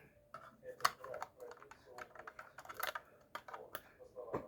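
A battery-powered flashlight's button being pressed, producing a quick series of small plastic clicks at an irregular rhythm, close and fairly quiet, with a voice talking alongside.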